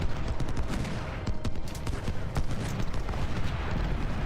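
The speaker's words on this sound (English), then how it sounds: "Now we're gonna get off a couple of volleys and then we're going to charge them." Dense crackling musket volleys come from massed troops in the Civil War strategy game Ultimate General: Civil War during a fort assault, with overlapping shots fired steadily throughout.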